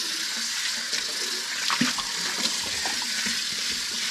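Water runs steadily from a kitchen tap as a bowl is rinsed out after kale prep, a close, continuous splashing rush with small uneven spatters and clunks and no voices.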